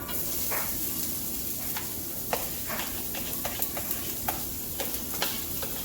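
Half a large onion sizzling in a pan over medium heat as a simple pantry meal gets going, a steady frying hiss near and continuous, broken by light scattered clicks and scrapes of stirring.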